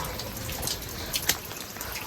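Rain keeps falling on an outing toward Junagadh under thick cloud, a soft, steady broadband patter with a few slightly louder splashes, fairly faint and with no voices.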